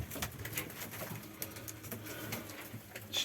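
Konya Arab pigeons, adults and this year's young birds, coo softly in a loft, with low repeated murmuring and brief rustling.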